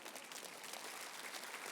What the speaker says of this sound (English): You can clap for Kurt.